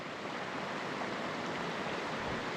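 Steady rushing water of a mountain creek fills the clip with continuous broadband noise and no voices.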